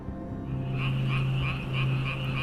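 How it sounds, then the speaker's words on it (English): A chorus of frogs croaks by a swamp in rhythmic pulses that grow louder after a quieter start, with a low steady hum underneath and no voices. "The frogs croaked louder to the heavens"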